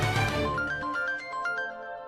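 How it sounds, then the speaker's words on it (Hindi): A phone ringtone for an incoming call plays a short, bright melodic tune, clear and alone for about two seconds. "अरे जीजा जी का फोन"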